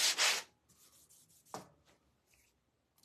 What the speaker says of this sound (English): apply just a little bit of a sanding block to this